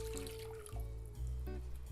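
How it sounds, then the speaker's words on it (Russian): Warm water being poured into a small bowl for yeast dough, a quiet, close trickle and splash that briefly dips and then resumes over a couple of seconds, with no talking. "В первую очередь отправляем в мисочку теплую воду."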